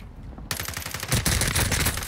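Rapid automatic gunfire in Warzone 2, a video game, rattles loud and dense, growing fuller partway through and continuing to the end.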